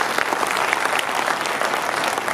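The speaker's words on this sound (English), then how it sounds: "round of applause." Loud, dense applause from the audience at a bodybuilding championship event, a thick uninterrupted clatter of many hands clapping close and strong throughout.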